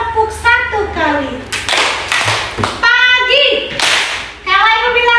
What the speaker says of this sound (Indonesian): Kalau Ibu bilang selamat pagi, silakan tepuk 1 kali.